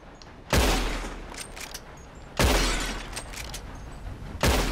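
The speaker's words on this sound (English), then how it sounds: "Whoever shoots more of these bottles wins" Gunshots in Red Dead Redemption 2 during a bottle-shooting contest: three loud, sharp blasts spaced about two seconds apart, each with a long echoing decay, close and alone with no talking.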